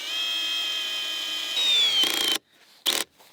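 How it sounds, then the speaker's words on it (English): A long drill bores a screw hole through wood during a backyard garden makeover, a steady high whine that rises in pitch, then cuts off into two short bursts with brief gaps between them. "So I have brought a longer drill so that we can make the hole in both the woods"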